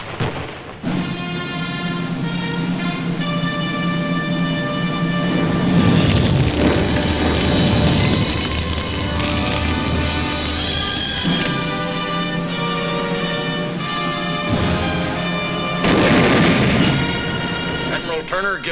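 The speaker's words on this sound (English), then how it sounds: "A mortar barrage searches out hidden machine gun nests." World War II mortar barrage and artillery explosions on Iwo Jima, repeated heavy booms and rumbling blasts rolling over a continuous dramatic orchestral score, loud and sustained throughout.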